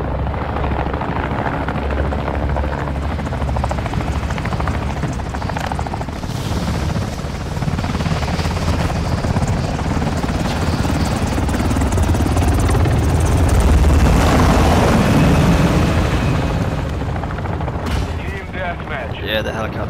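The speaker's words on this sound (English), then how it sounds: "Yeah, the helicopters, bro." Helicopters in the Call of Duty: Modern Warfare II video game drone loudly and continuously for about twenty seconds. Gunfire bursts are mixed into the game soundscape, and voices talk over it.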